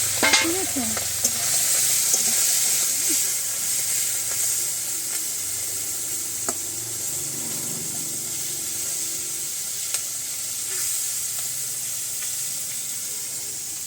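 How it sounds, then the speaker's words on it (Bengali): Fish frying in a kadai over a home earthen stove, a steady broad sizzle and hiss running throughout with occasional light stirring clicks, close and fairly loud, no talking. "মাছগুলো কড়াতে দিচ্ছিলাম"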